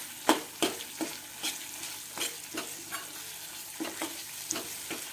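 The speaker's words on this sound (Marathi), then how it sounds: "मी इथे चमच्याने याला तेल रिलीज होऊ देणार आहे, असं हलवून." A spoon repeatedly stirs thick shahi paneer gravy in a pan over a low flame, scraping and sloshing in an irregular rhythm of soft strokes over a faint, steady sizzle, close by with no voices.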